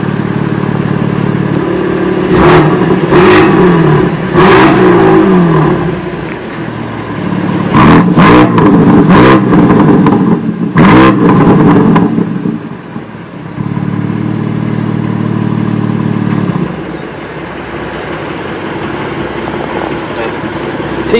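Several sharp throttle blips from a BMW G80 M3 Competition fitted with the M Performance exhaust, first as three quick revs and then as a burst of four, loud and close with a steady rumbling idle between them.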